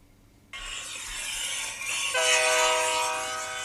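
A train rumbles in, then a loud, sustained horn blares over the rolling noise, close and prominent.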